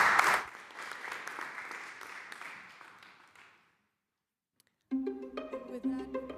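Warm audience applause at a pitch event, strong at first and then thinning and fading to silence, followed by a brief musical sting with clear tones.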